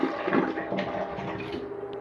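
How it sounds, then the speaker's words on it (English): Water rushes steadily through a toilet bowl as the flush handle is held down, a continuous close, hissing gush with a gurgling undertone throughout. "Nice flush."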